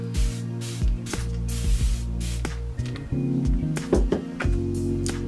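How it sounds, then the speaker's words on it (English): Short hisses of a skin care spray mist during a skincare routine for eczema and dry skin, several separate close bursts. "I'll do a little more spray."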